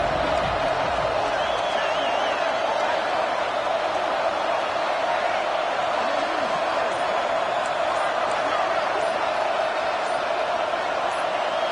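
Steady roar of a stadium crowd in a College Football 26 online dynasty game, Miami visiting UNC, a constant dense wash of noise with swelling cheers and a commentator talking over it.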